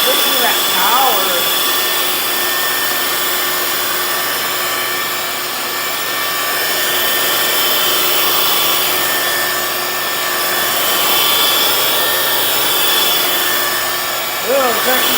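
A Hoover FloorMate hard floor cleaner runs on its wet scrub setting, giving a steady, loud motor whir and scrubbing hum that holds throughout, with a voice talking briefly over it.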